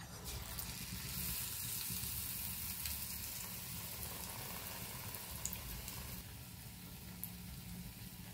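Green chillies slit and stuffed with crushed ajwain, salt and gram flour, dipped in batter and sizzling in hot oil as mirchi bajji; a steady, close, crackling fry hiss runs throughout with no talk.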